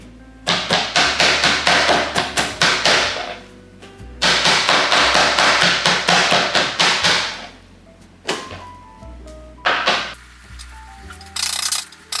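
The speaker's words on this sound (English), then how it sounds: "with the meat tenderizer, I'm just gonna hammer it through each side" A meat tenderizer pounding raw chicken: rapid bursts of heavy, dull strikes, several rounds of repeated thwacks separated by brief pauses, close and loud.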